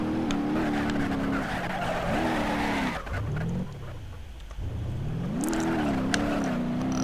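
A car drifts in BeamNG.drive with continuous engine roar and long squealing tires, the pitch rising and falling as the slide changes, loud and close, with a brief exclamation from a voice.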